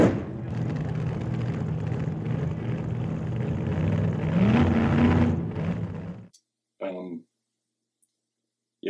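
A voice imitates a car engine, rumbling and revving steadily for several seconds, then cuts off, followed by a short burst of speech.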